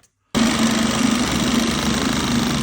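A small Mercury 2.5 outboard motor starts abruptly after a brief silence and then idles loudly and steadily close by with a constant rough vibrating hum, with no talk.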